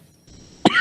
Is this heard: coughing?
yes